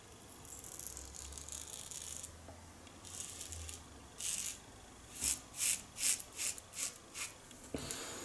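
A 1946-48 Gillette Aristocrat double-edge safety razor with L'Orange Noir shaving soap, shaving against the growth: a run of short, close rasping strokes that come in a quick rhythmic series toward the end, with no talking.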